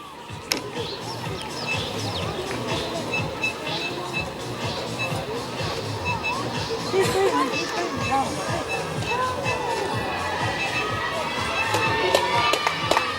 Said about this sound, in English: All the crowd are urging him to sprint to the finish